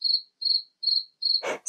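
A cricket chirps in four evenly spaced, clear, high trills close by, followed by a brief rustle and then a fifth chirp.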